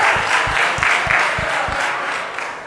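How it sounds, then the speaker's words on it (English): A crowd at a financial literacy fair closing event applauds Team USA for winning a soccer-themed contest, steady clapping that stays loud throughout and eases slightly at the end. "Team USA, give yourselves a round of applause for winning our financial soccer."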